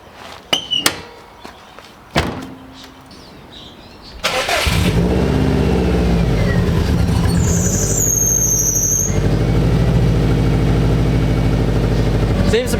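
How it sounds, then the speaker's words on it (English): A turbocharged Subaru WRX engine catches and settles into a loud, steady idle close by, after a few sharp knocks and clicks, with a brief high squeal partway through. "Seems to be idling fine, so I'll let it warm up and then take it for a drive."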